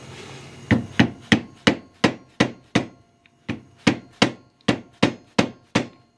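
A hammer repeatedly strikes a part being fitted onto the front end of a 1930 Ford Model A, giving about a dozen sharp, loud, close metallic blows in a steady rhythm, with a short pause midway.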